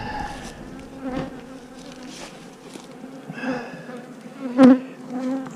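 Honeybees buzz around an open hive while queen cells are installed, their droning hum rising and falling as individual bees pass close, one loud sweep near the mic.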